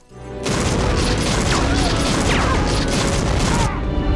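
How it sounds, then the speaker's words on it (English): Dense, loud bursts of gunfire and crashing action effects rumble continuously, with no clear speech over the barrage. "Why am I hearing gunfire?"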